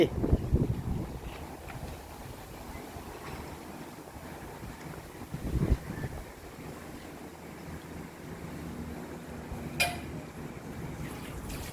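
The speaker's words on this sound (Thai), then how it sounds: "ลมเย็นมาแล้ว" Cool wind gusting across an open outdoor setting, a steady rushing noise with brief louder buffets against the microphone, continuous throughout with no talk.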